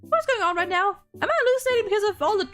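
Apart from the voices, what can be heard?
No everyday noises stand out.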